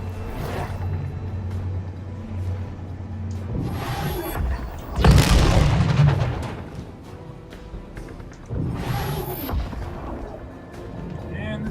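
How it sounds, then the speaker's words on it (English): Exploding barrels in the game Heroes Reborn burst with heavy booms, including a loud blast around the middle followed by a rumbling tail and another later thump, mixed with game noise and a voice talking. "And this is the last exploding barrel we have in this time frame."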